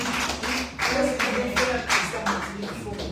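Worshippers in a church clap together in acclamation, a strong regular beat of hand claps, close and loud, with voices calling out underneath.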